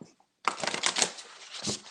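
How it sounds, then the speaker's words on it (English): A deck of tarot cards is riffle-shuffled close by. A dense burst of rapid papery flutters follows a short pause, and a second riffle comes near the end. "It's funny when I'm shuffling, sometimes a card just pops out"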